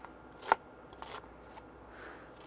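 A kitchen knife slices through an onion on a cutting board, one sharp crisp cut up front followed by a few softer strokes, close and alone without talk.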